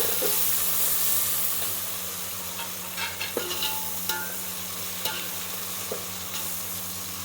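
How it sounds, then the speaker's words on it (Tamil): Mint and coriander leaves sauté in oil for chicken biryani, a loud close sizzle and steamy hiss that gradually settles while a spatula stirs and taps the pan several times. "முன்னாடியே வந்து புதினா கொத்தமல்லி போட்டு வதக்குறோம் நம்ம."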